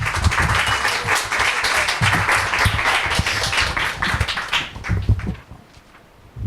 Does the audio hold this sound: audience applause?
yes